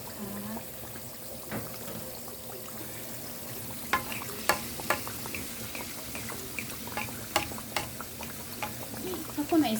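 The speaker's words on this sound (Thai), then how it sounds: "ปลาส้มแม่ลำดวนทอดให้ดูสดๆแบนนี้เนาะ" Pla som, Thai fermented fish coated in flour batter, frying in hot oil with a steady crackling sizzle and scattered sharper pops and clinks, with a voice talking over it.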